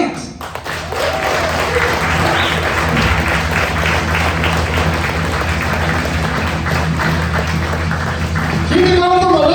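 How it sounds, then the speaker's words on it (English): Applause from a live comedy club audience for an opening comedian breaks out and holds as a dense, steady wash of clapping and crowd noise, with a host's voice heard near the end. "Give a big round of applause to your open for the evening, Matt Plant."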